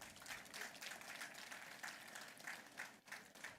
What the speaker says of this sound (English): I think that you deserve a big applause